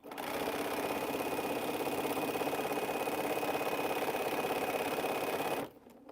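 A sewing machine stitches quilt strips in one steady, fast mechanical whir that runs for several seconds before stopping abruptly, with no talking over it.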